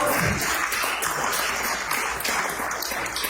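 Convention audience applauding, dense continuous clapping that fills the whole stretch at steady loudness, with a few louder claps near the front.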